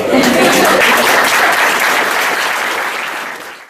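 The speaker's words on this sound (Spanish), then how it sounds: "Un aplauso para" Loud, dense audience applause in a lecture setting fills the room, sustained and close, then gradually tapering off toward the end.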